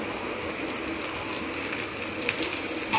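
Okra sizzles steadily in a pan of frying onions, a continuous hiss and crackle with a few brighter pops, close and without speech.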